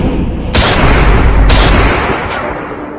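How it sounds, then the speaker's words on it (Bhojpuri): Three loud gunshot bangs go off in a Bhojpuri comedy skit about dacoits, each a sharp blast followed by a brief ringing tail, spaced roughly a second apart. "तिनिया तो सांचो के गोली चलावता बाबे"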